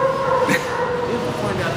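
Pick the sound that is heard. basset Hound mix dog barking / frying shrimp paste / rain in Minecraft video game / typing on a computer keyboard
basset Hound mix dog barking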